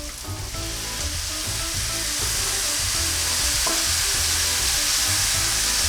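Chopped coriander and mint leaves fry with onions in a pan for mutton biryani, a loud, close, unbroken sizzle over low rhythmic stirring thumps, with no talking.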